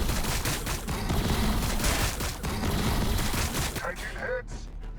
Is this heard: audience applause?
no